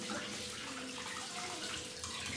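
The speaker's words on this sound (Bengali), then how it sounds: "এদিকে আবার শাক ধুয়ে রাখছে," Tap water running steadily into a sink while leafy greens are washed, a continuous, close hiss and splash at an even level.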